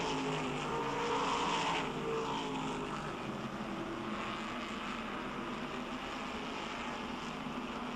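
Race cars racing on the oval track at Oxford Plains in Maine, a loud continuous roar of many engines blending together with no talking.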